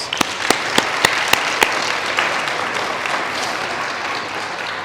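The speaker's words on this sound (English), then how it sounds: "Let's give all of our sponsors a big round of applause." An audience at a Chamber of Commerce mayor luncheon applauds the sponsors with a dense, steady round of clapping, sharp individual claps standing out near the start before the applause settles into an even patter.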